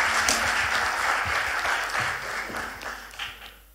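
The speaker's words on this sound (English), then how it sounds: "Let's give him a round of applause" An audience applauds Paul Bell at a Duke of Edinburgh's International Award Foundation event, a steady wash of clapping that fades slightly toward the end.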